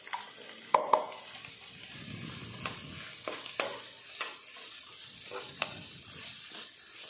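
Ginger sautéing quickly in a hot pan gives a steady soft sizzle broken by several sharp clacks and scrapes of a utensil stirring against the pan, with no talking.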